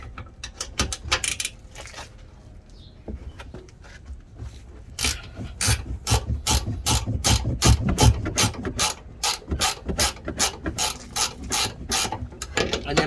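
A hand ratchet loosens bolts while a lift kit goes onto a 2020 Chevy Colorado, giving close, crisp bursts of rapid clicking in repeated strokes with short pauses between them.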